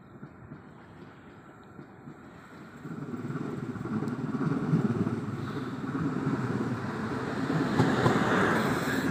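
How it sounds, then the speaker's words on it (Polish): A Koleje Mazowieckie passenger train pulls into Warszawa Wschodnia station, its low rumble swelling after a few seconds into a steady, fairly loud roar of wheels and carriages that builds again near the end. "Wjeżdża pociąg osobowy Kolei Mazowieckich, relacji Warszawa Centralna,"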